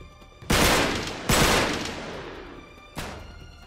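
Three loud AK rifle shots or bursts in Uncharted 3, the first two close together and the third after a pause, each a sharp blast with a long decaying echo.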